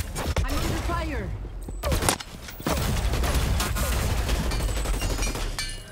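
Bursts of gunfire in the online battle-royale shooter Hyper Scape: sharp cracks and rapid volleys with a loud boom midway, dense and close, overlapping other game effects and a voice talking.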